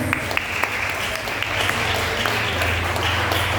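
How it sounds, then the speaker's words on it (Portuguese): A church congregation claps for Jesus during a Portuguese-language service, the steady, dense applause filling the room with a sustained music tone underneath. "Você pode aplaudir o Senhor Jesus?"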